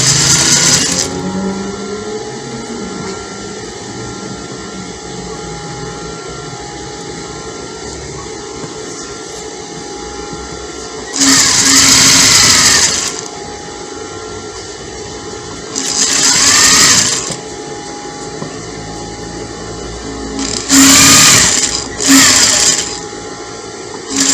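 A sewing machine stitches dress fabric in several short bursts, each a few seconds long with a rapid whirring hum, separated by pauses where only a low room hum remains.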